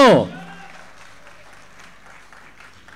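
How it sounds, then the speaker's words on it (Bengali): An audience in the Diploma Engineers Institute auditorium applauds at the opening of a season 8 event. A brief loud vocal sound comes first, then a steady, fairly soft wash of many hands clapping continues to the end. "একটা জোরে হাততালি হোক সকলের জন্য।"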